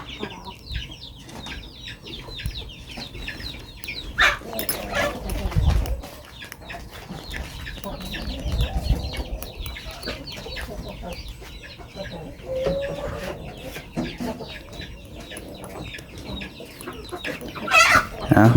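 Chickens cluck close by in short, irregular bursts over a rustling farmyard background, with a few louder squawks and faint voices now and then.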